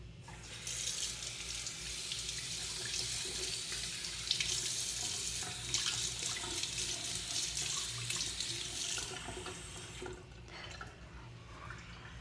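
Tap water runs steadily into a bathroom sink while someone rinses mascara and skincare product off their face, a continuous close splashing flow with small drips and splashes, easing off near the end.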